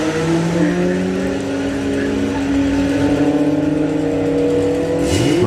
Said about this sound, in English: to get the dragster to run so well in the 9s as well